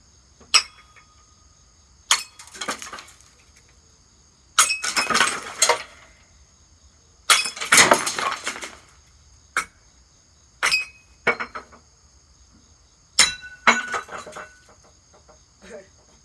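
Glass parts of a ceiling fan being smashed: a series of sharp crashes and tinkling shatters in irregular bursts, some louder clusters of breaking glass, separated by quiet pauses.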